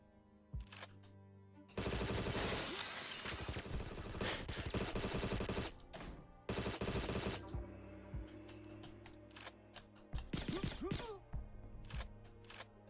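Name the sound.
full-auto gunfire in video game Agent 64: Spies Never Die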